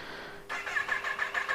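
A Kawasaki Z900 motorcycle engine starting: a quiet lead-in, then the starter catches and the engine fires into a pulsing, rhythmic idle nearby, loud and alone without talk.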